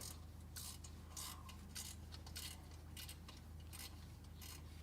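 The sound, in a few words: ratcheting wrench removing bolts from golf cart motor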